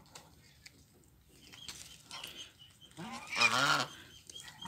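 Domestic geese eat papaya leaves and give a loud honking call that builds near the end, with softer scattered calls and rustling before it.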